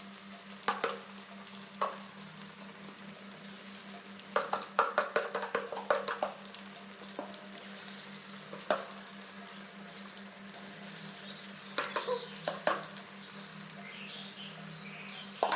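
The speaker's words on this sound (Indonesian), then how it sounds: "Minyaknya sudah mulai panas, kita masukkan dadar jagungnya satu persatu." Corn fritters (dadar jagung) are lowered one by one into hot oil in a wok. A soft, steady sizzle carries faint clinks and stirring sounds over a low constant hum, and no one speaks.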